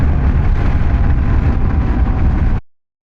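A Kawasaki KLR650 motorcycle engine runs loud and steady at close range with a broad low rumble, then cuts off abruptly after about two and a half seconds.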